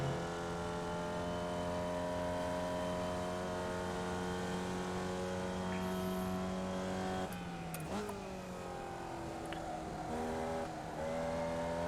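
A Formula Vee race car at Oulton Park in the iRacing sim: a steady, buzzing engine drone holds its pitch, then drops sharply on an upshift and climbs again, loud and close.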